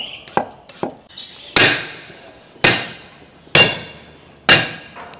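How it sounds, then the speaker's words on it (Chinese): A knife chopping scallions and ginger on a board, with a couple of light taps and then four sharp, evenly spaced thwacks, close and loud with nothing else heard. "葱姜切一下。"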